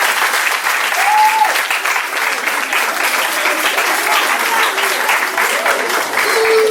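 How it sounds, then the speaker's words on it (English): A school audience at a quiz competition claps for the assistant headmistress as she comes to the stage. The applause is steady, dense and loud and lasts the whole stretch, with faint voices underneath. "Let's clap for her."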